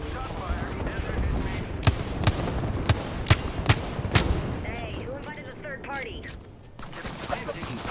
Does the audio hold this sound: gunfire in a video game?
yes